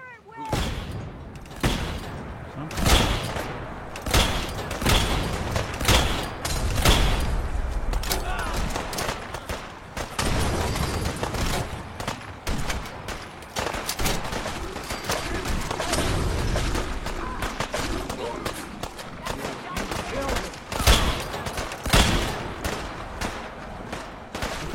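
A video game battle erupts in a volley of gunfire: dense, rapid bursts of shots and heavy booms overlap continuously, loud and close, with voices faintly mixed beneath the barrage.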